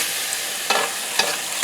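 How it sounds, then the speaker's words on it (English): A spoon stirs kielbasa and tortellini soup in a pot, a broad wet swishing with a few soft scrapes against the pot, steady and close with no talking. "try to stir everything up so it's going to be nice and creamy"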